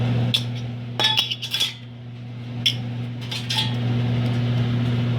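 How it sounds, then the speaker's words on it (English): Metal canning jar lids clatter and clink into a pot of sterilizing water while plum jam is being made, a quick run of sharp metallic clinks, then a few more later, over a steady electrical hum. "Now I'm going to throw the lids in there."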